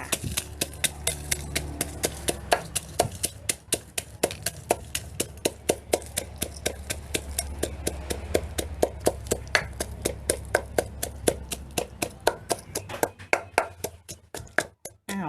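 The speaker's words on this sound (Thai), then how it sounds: "เรามาตำพริกกระเทียมกันเลยนะคะ" Steady rapid pounding of a pestle in a stone mortar crushing dried and fresh chilies with garlic, sharp rhythmic thuds repeating for the whole stretch, close and fairly loud, with no talking.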